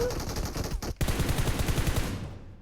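Rapid bursts of automatic gunfire from the video game PUBG Mobile, loud and close, with a brief pause before a long, fast volley that fades out.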